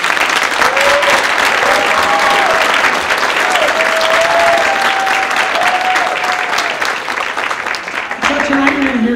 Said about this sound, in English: Would you give one more round of applause to our Madrigal singers?